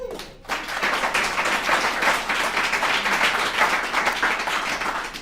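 An audience at a recovery services alumni meeting breaks into sustained applause, a dense, even wash of many hands clapping up close that carries on without letting up and without speech.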